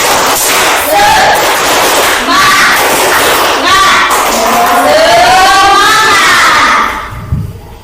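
A class of schoolchildren loudly performs the rhythmic 'tepuk semangat' clap-and-chant, shouted voices rising and falling over clapping, ending with a thud.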